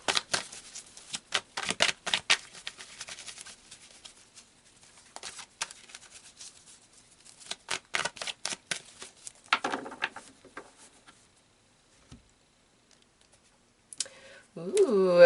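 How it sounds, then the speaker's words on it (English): Tarot cards shuffled and drawn during a reading, with bursts of quick riffling and flicking clicks in clusters, a softer stretch of card handling in between, and a short voice near the end. "Let's pull some more cards."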